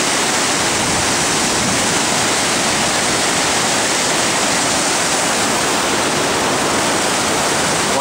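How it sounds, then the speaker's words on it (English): Loud, steady roar of meltwater rushing through flooded channels in Uppsala after heavy snowmelt, a dense unbroken torrent filling the whole clip close by with no voices. "There's a lot of water this year after all the snow have melted."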